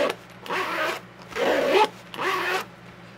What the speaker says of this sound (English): YKK reverse coil zippers on this